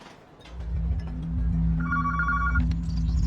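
A desk telephone rings in the Pakistan High Commission office, a single short electronic ring burst of steady tones rising over a heavy, constant low rumble of background noise, with no voices.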